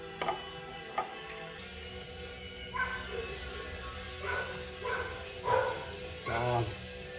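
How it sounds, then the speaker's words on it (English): A dog barks and yips repeatedly near a garage where a Dodge Nitro's parking brake and axle seals are being repaired, with irregular bursts over a constant background hum and a voice briefly heard. "Dog."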